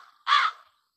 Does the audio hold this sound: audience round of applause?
no